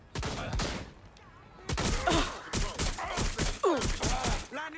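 Bursts of gunfire in Watch Dogs Legion during a police chase, sharp loud shots spaced through the clip and mixed with voices shouting and other action sounds.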